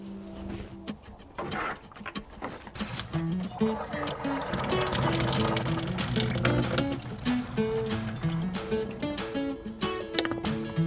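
Running water from a tap pours steadily, close by, with some clinking and household noise and a faint voice in the background.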